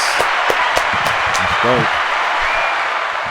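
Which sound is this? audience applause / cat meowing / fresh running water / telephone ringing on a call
audience applause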